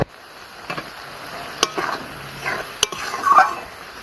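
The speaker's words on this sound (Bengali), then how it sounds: "এইবারে দিয়ে দেবো মশলাটা। দিয়ে দেবো চেরা কাঁচা লঙ্কা" Masala and slit green chillies fry in a pan for a Bengali-style bhola fish curry, a steady soft sizzle broken by a few sharp clicks and scrapes of a spoon stirring against the pan.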